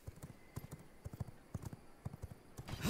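A horse gallops in the vampire survival game V Rising, its hooves clip-clopping in a quick, steady rhythm that stays close and fairly loud, with no talk.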